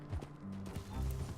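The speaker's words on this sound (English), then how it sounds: "This is horse racing down a hill at its finest." Galloping horse in Red Dead Redemption 2, racing downhill on a street with a rider aboard, making steady thudding hoofbeats in quick rhythm, close and fairly loud, with a faint voice briefly mixed in.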